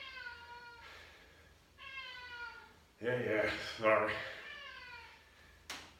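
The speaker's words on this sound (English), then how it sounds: "Got an angry cat." An angry cat lets out several drawn-out, wavering meows at close range, with a person briefly talking over the louder middle stretch.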